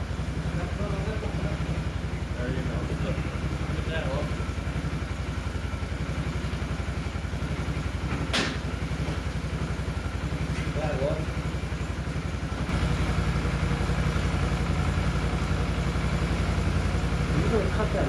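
A Can-Am Outlander 650 ATV's V-twin engine idles steadily with a rapid, even chugging pulse and light mechanical clatter, close by, as people talk over it throughout.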